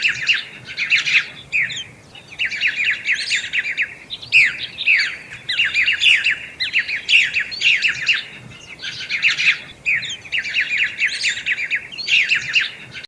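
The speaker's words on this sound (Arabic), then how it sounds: "طائر الدج" A thrush sings continuously in bright, rapid chirping and trilling phrases with brief pauses between bursts, close and clear, with no talking.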